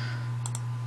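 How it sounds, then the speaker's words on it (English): A computer keyboard key is pressed in a quiet room over a steady electrical hum, giving a couple of faint, quick clicks close together and one more at the very end. "we'll go ahead and hit D on the keyboard"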